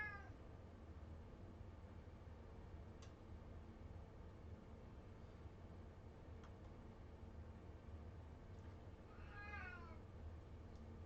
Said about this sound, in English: that cat's really distracting